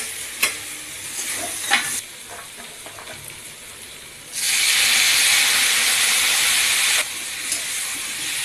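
Potatoes sauté with ginger-cumin paste and turmeric in a pan, giving a loud steady sizzle and hiss for about three seconds midway, with fainter frying crackle and occasional clinks before and after.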